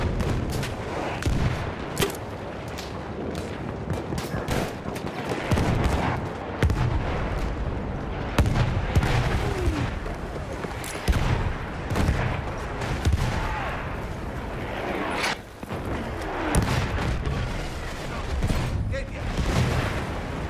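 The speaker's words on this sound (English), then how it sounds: "Wait for the enemy artillery barrage to stop firing." Battlefield 1 enemy artillery barrage in a game match: dense, continuous booms and cracks of shellfire and gunfire rumbling loudly throughout, with brief sharper blasts scattered over a constant roar.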